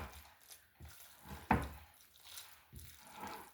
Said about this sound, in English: Now I'm going to stir this in my potatoes.